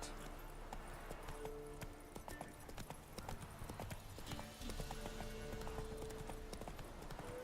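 In The Witcher, the horse Roach trots with rhythmic, clear hoof clip-clops over ground, steady and fairly close, while a quiet voice talks now and then beneath the hoofbeats.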